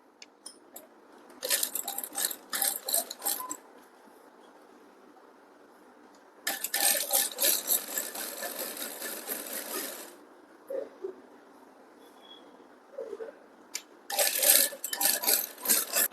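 Sewing machine stitching piping for a work-style blouse neckline, three bursts of rapid mechanical stitching separated by quiet pauses and soft handling noises, with no talking.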